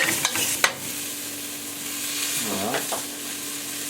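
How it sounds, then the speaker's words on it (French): Lamb shanks and vegetables browning in a pan with no fat, a steady close sizzle with a few spoon scrapes and stirs, and one brief spoken word. "On va faire un petit peu roussillant. Ça va permettre de récupérer tous les sucres de la viande."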